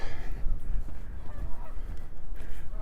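Geese honking along a snowy lakeside path in Regina in April, a loose string of calls over steady low wind rumble, moderately near and continuing throughout.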